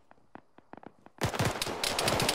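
Gunfire in a military shooter game at dusk: a few scattered distant shots, then a sudden loud, dense burst of rapid close automatic fire that keeps rattling to the end.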